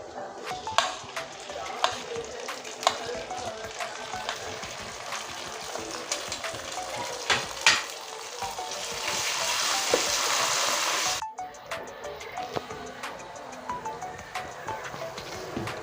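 Dried chilli and cumin paste frying with onion and garlic in a pan, a steady sizzle with frequent stirring clicks and a louder hissing swell partway through before the scraping resumes.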